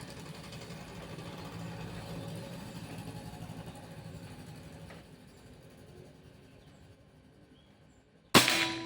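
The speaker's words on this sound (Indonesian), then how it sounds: "Tembakan kelima atau yang terakhir." A Pajerogun Gen 5 PCP air rifle fires a single sharp shot near the end, loud and sudden after a stretch of low background hum with no talking.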